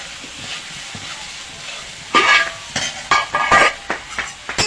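Potatoes and spices with turmeric and salt stirred in a hot pan for a vegetarian paneer dish, a low sizzle under the first half, then loud bursts of hissing and scraping as the spoon works the mixture in irregular strokes.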